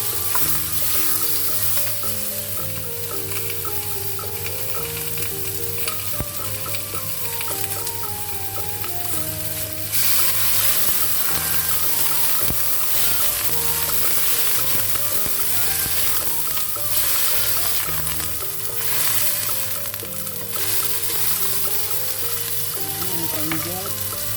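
Garlic and Sichuan-style soft bone pork ribs fry in a pan with a steady, loud sizzle, while utensils stir and scrape throughout and a cooking tune plays underneath.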